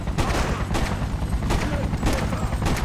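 Repeated bursts of gunfire in the Freedom Fighters video game, evenly spaced shots over a steady layer of battle noise, fairly loud and continuous.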